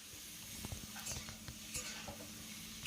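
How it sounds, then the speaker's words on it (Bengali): Cauliflower florets and potato pieces fry together in a pan, giving a steady sizzle under scattered scraping taps as the pieces are stirred and turned. "এখন ফুলগুলোকেও কিন্তু ভালো করে আলুর সঙ্গে এইভাবে ভেজে নিতে"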